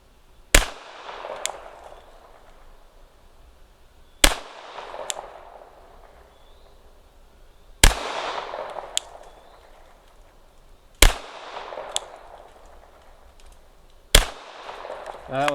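Five loud, sharp handgun shots from a pistol fitted with an Olight Baldr Mini light and laser, spaced about three to four seconds apart outdoors, each with a ringing echo tail.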